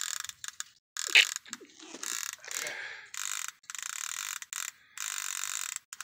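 A fishing reel's clicker ratchets in loud, close bursts of rapid clicking while a sturgeon is reeled in at Pittsburg, California. The bursts start and stop with short pauses between them.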